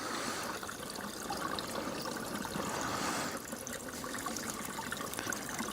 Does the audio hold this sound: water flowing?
yes